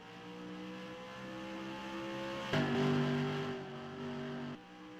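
Stock race cars racing at Rockingham Speedway as the field heads to the green, a steady engine drone from a distance with a louder surge as cars rumble past, then easing back.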